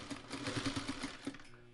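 A sewing machine stitches a seam in a quilt carrier, making a quick, regular run of needle clicks that is fairly quiet and close, and it lasts under two seconds.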